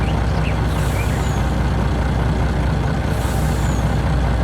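A heavy truck engine in Farming Simulator 19 rumbles steadily at close range, with a couple of sharp hissing air bursts over the low drone.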